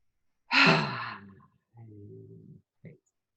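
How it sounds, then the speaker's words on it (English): A single long, deep in-breath drawn down into the belly, close and clear, followed by a softer slow exhale and a short final breath sound. "take a nice big deep breath, breathing down into your belly"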